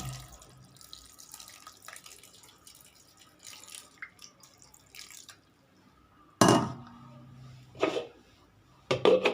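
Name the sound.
pouring water into dosa batter in mixer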